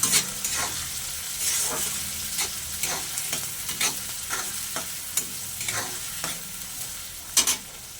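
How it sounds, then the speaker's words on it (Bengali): Chopped onions fry in a pan for an egg curry with a constant, dense sizzle. Rhythmic scrapes from stirring recur throughout at close range, with no voices. "পেঁয়াজটাকে আমি লাল লাল করে ভেজে নেব।"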